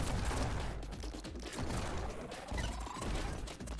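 Rapid gunfire in the video game Neon White, dense bursts of shots and impacts layered over game music and effects, loud and continuous with a rising tone near the end.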